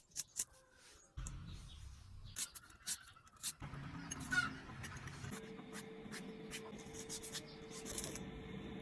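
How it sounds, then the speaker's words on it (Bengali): Vegetables being chopped on a board for a fish curry: onion, green chili and tomato cut with a knife in scattered taps and scrapes, fairly close and quiet, with no one talking. "প্রথমে এখানে পেঁয়াজ, কাঁচামরিচ, টমেটো সবকিছু কেটে কুটে নিতেছি।"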